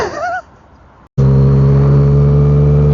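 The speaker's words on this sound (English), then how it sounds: "I rev this guy a lot, watch." A Yamaha MT-09 motorcycle engine revs hard after a short pause, a loud, sustained roar that holds steady at close range.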